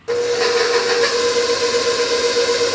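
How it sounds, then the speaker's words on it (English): An electric stand mixer whirs as it blends flour into double chocolate espresso cookie dough, giving a steady, loud motor whine with a continuous hiss that holds unchanged for the whole stretch. "I'm going to mix that up till that's all combined."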